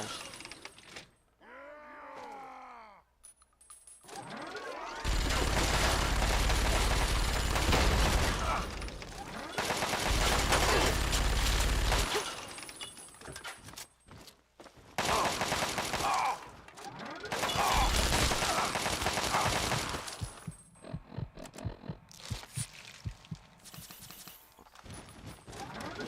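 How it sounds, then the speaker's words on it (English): Bursts of heavy gunfire from a powerful gun in Fallout 3, loud sustained volleys broken by short pauses, with game sound effects and occasional background noise between the shots. "Powerful gun, but if they make you flinch too much, you'll actually stop firing."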